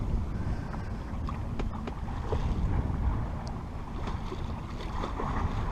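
A sailboat under sail off the French coast between La Badine and Les Embiez, with steady wind buffeting the microphone and water rushing along the hull, continuous and fairly loud with no voices.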